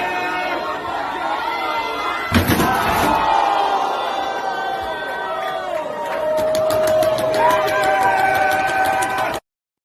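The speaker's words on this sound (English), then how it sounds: "Pile driver off the little wall there, half wall through a table" A wrestling piledriver off a half wall through a table lands as a sharp broadband crash amid a roaring arena crowd, while excited commentator voices talk over the noise and the cheering swells afterward.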